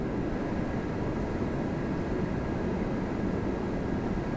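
Steady, dense rumble of a Boeing 777 cargo freighter landing at Toronto Pearson, a continuous roar with no talk over it.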